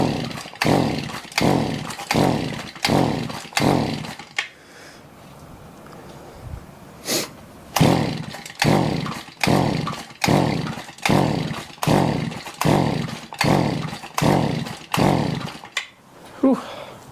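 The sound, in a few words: Shindaiwa edger engine revving with throttle held down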